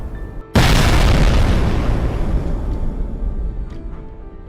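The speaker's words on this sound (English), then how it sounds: "The penetrating warhead detonated after passing through the concrete surface" A penetrating warhead detonates inside a concrete dam: one sudden, massive boom erupts from near silence and then rolls into a long, heavy rumble that fades slowly.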